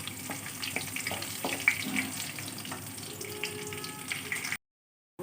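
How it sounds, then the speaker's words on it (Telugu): Mustard seeds, urad dal, chana dal, cumin, dried red chillies and garlic sizzle and crackle in hot oil, a steady frying hiss with small pops that stops abruptly just before the end. "ఆయిల్లో ఆవాలు మినపప్పు శనగపప్పు జీలకర్ర ఎండుమిర్చి వెల్లుల్లి ఇవన్నీ ఫ్రై చేసుకోవాలి"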